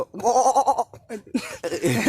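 A voice imitates a goat's bleat with a wavering, pulsing cry, followed by a few shorter vocal sounds, close and fairly loud.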